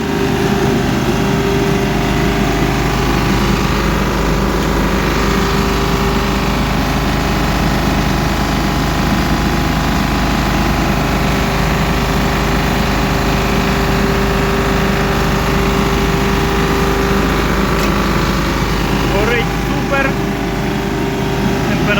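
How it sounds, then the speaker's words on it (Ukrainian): A wood-fired boiler hums steadily and loudly throughout, a constant low droning rumble with a mechanical tone. No break or change in level. "Це, друзі, котел у нас працює. Як равлик гудить."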